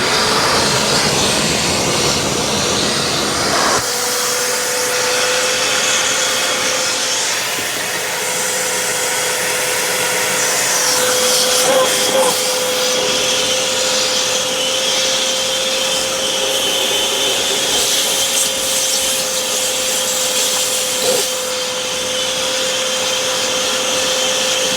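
A stainless steel Vacmaster shop vac runs steadily while cleaning a dirty car, a loud continuous whine with a shift in airflow tone a few seconds in, then a sustained roar with small fluctuations throughout.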